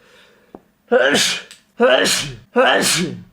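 A person with allergies sneezes several times in quick succession, three sharp loud bursts close to the microphone after a brief intake of breath, with no talking.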